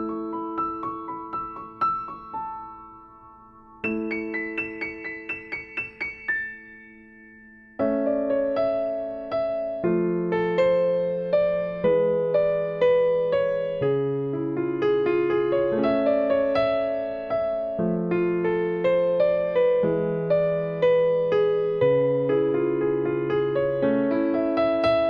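Solo piano plays the intro and first verse of a song: a sparse, ringing high opening with pauses, then a steady flowing accompaniment of repeated chords and melody, close and clear with no voices.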